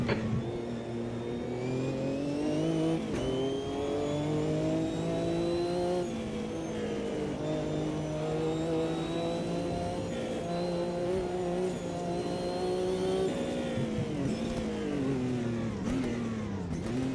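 Group C race car in Automobilista 2 pulling out of the pits, a steady mid-pitched engine drone that rises and falls through gear changes, loud and continuous with no talk.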